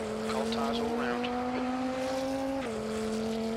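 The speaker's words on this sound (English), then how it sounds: "the car just sounds so good" A race car in Automobilista 2, from the 2005 endurance content, drones steadily at high revs, with the engine note stepping down once partway through as it shifts, loud and continuous.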